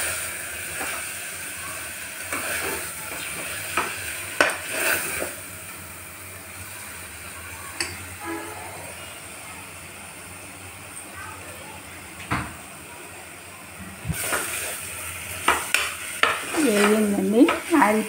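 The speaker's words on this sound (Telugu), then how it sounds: "ఇవి కూడా కాసేపు వేగాలండి." Radish pieces fry in oil in a pan, giving a soft continuous sizzle broken by frequent spoon scrapes and clinks against the metal, close by, with some louder stirring clatter near the end.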